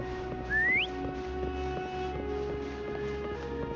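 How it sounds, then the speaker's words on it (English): A game character gives a single short rising whistle to call Foam in Wuthering Waves, clear and close over soft background music. "Try whistling."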